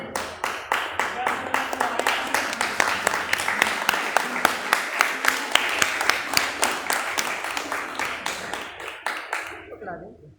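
Rhythmic group clapping at a karate belt promotion ceremony, a crowd beating out a steady, even beat of claps for about ten seconds before it fades, loud and close with a voice faintly underneath.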